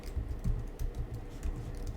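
Fingers type on a computer keyboard while entering web form code, with quick, uneven clusters of soft clicking keystrokes close by and no speech.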